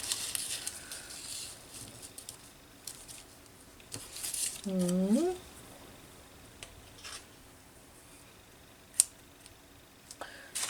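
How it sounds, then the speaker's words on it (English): Scissors cut paper for a pocket paper bag journal insert craft: a few crisp snips with light paper crinkling, broken midway by a short voiced sound. "Maybe I'll cut the other one out."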